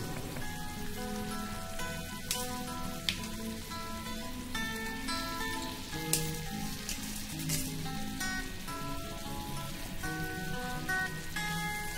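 Fried chicken pieces with spices crackle and sizzle steadily in hot oil, a dense, rain-like hiss with scattered pops, fairly quiet and continuous with no talking.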